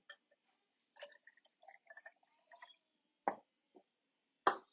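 Water trickles and splashes into a drink in a glass in a few short bursts, with quieter drips between, close and fairly soft.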